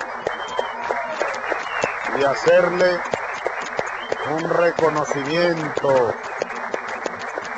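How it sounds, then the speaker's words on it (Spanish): Audience applause for the Venezuelan baseball team at a televised presidential broadcast, sustained clapping running underneath a voice speaking loudly throughout. "yo quiero brindarle un aplauso al equipo venezolano"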